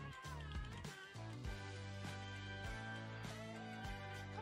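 A male house cat meows faintly with drawn-out, wavering cries over steady low background tones.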